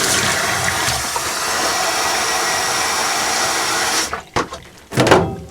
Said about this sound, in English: Put a little more hot water in there just to make sure we can.